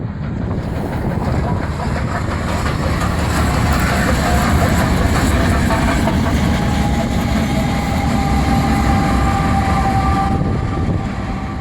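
Union Pacific Big Boy 4014 steam locomotive and its train roll past near windmills, a loud, steady rumble with clattering wheels and rail noise lasting the whole stretch and no voices.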